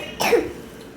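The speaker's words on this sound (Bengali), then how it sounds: "আমার তো কাশি শুরু হয়ে গেছে।" A single close, sharp cough from someone eating spicy Korean ramen, a short rough burst that quickly fades.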